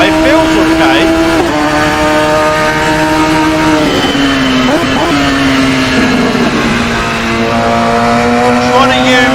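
A high-revving Radical SR3 XXR race car engine in Assetto Corsa drones steadily and loudly, its pitch rising and dipping through gear changes, with occasional talk over it.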